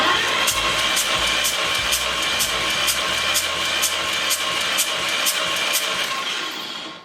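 Compression blows out of an open spark plug hole on a cranking small-block V8 in a 1932 Ford gasser truck. Sharp puffs repeat at a steady, even rhythm over a constant loud mechanical roar, with no talking.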